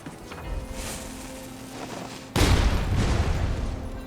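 A single heavy gunshot or blast rings out in Wuchang Fallen Feathers after a stretch of quieter ambience, a sharp loud boom followed by a rumbling, crackling tail.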